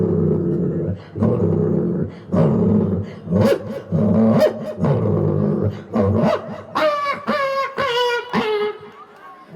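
Dogs growl and snarl in a close, noisy fight, then high-pitched yelps and whimpers rise toward the end.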